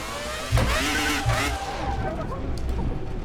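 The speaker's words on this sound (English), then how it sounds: "Alright, let's rev up the tires. Rev up the engine" A Formula 1 car from the 2000 season, at the Imola circuit, revs hard with sharp rising engine sweeps and tire skidding. The sound is loud and close, with a voice talking over part of it.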